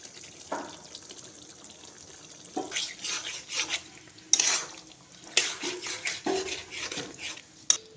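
A spatula stirs yogurt into an oily chicken curry with milk and greens, producing repeated close scrapes and knocks against the pot over a soft simmering hiss.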